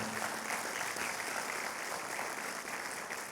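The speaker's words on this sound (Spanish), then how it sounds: "Denle un fuerte aplauso al Señor." A congregation at a church service applauds, giving a faint, steady patter of clapping that lasts a few seconds without a break.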